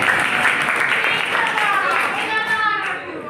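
Children in a classroom clap together in a steady burst of applause, loud and close, with a voice and chatter mixed in.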